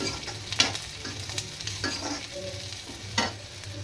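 Small bitter gourd fry being tossed with chilli powder and salt in a pan: a constant sizzle with repeated scraping and clattering strokes of a spoon mixing it, close and clear.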